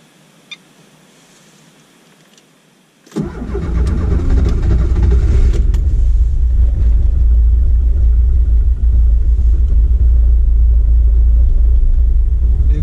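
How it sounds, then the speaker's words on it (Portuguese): VW Gol Turbo with an FT450 setup cranking on its first cold start of the day at 19 degrees, catching after a few seconds and settling into a loud, steady, rumbling idle close by. "Eu vou fazer uma partida aqui agora"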